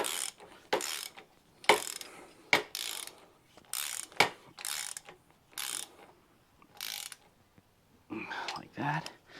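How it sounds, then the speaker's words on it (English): Ratchet wrench tightening a bolt on a 1972 Honda CT90 K4 motorcycle during reconditioning, heard as repeated short bursts of clicking, close and moderately loud, with brief pauses between strokes. "is tighten that all the way up."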